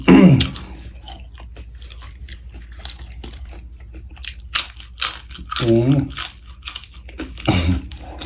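Crunchy food is bitten and chewed up close in a series of crisp crunches and softer chewing, broken by a couple of short hummed voice sounds.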